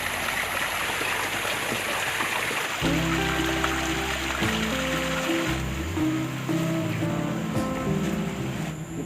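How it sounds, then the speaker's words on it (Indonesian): Spring water flowing steadily outdoors while wild vegetables are washed in it, a loud continuous rushing with a deeper gurgling, splashing layer entering after a few seconds, no talking. "Kita mau cuci dulu sayurannya. Pas buat ini ada sumber mata air."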